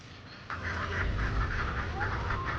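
Many laying ducks quack in a crowded duck coop, a steady overlapping chorus of calls close by, with a brief faint voice at one point.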